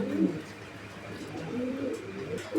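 Pigeons coo at a bird market, soft low throaty calls repeating in bursts at close range over a murmur of background noise.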